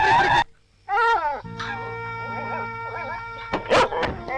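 An orphaned puppy whimpers and yelps in a Telugu film scene, a few high whines, then a sustained tonal background with further sharp cries near the end.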